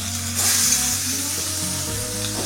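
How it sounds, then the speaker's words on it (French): Dry pan-searing of protein with no fat added: a steady, moderately loud sizzle and crackle runs throughout, with faint scraping of the pan underneath. "Sans matière grasse, on le poêle dans sa poêle."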